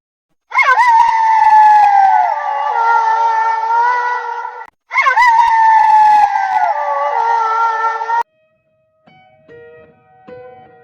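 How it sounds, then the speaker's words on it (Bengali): A cartoon fox lets out two loud, long, wavering howls that slide downward, separated by a brief gap, followed by fainter scattered sounds. "শিয়াল শিকারীর গাড়ি দেখার সাথে সাথে চিৎকার দিয়ে ওঠে"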